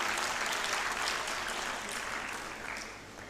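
Audience applause at a school International Women's Day gathering with students, staff and guests, a dense, steady wash of many hands clapping that fades slightly toward the end.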